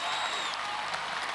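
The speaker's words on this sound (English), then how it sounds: "Applause and pride from husband Mark." Studio crowd applause and cheering for a Gladiators contestant on the 1996 UK show, a steady dense roar of clapping with a faint whistle near the start.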